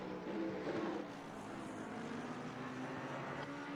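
A steady, throbbing AMG Mercedes race car engine drone in a racing video game at Zolder, loud and continuous with a low rumbling hum and no talking.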